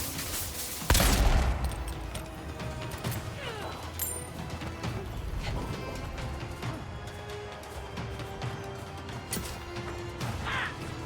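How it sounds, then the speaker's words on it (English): Explosions in the fantasy action game Avowed: a sharp loud blast early on, followed by a busy combat din of smaller bursts, impacts and rumbling effects that carries through to the end. "Oh, now they explode?"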